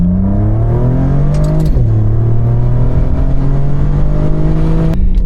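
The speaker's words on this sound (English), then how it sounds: "That's why you can hear all these amazing turbo noises." A tuned, turbocharged car with high-flow downpipes and an upgraded air intake accelerates hard. The engine note climbs loudly, drops briefly at a gear change, then climbs again, close and continuous throughout.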